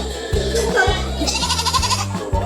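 Goats bleat loudly nearby, several wavering calls overlapping, with bits of human voice mixed in among them.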